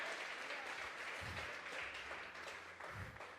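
A church congregation at a Sunday service bursts into sustained applause, a dense wash of many hands clapping throughout, fairly distant and steady.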